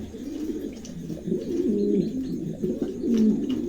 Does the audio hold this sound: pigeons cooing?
yes